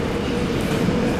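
A subway train at Suwon Station in Korea rumbles steadily and loudly, a continuous low mechanical roar of rail transport with no pauses.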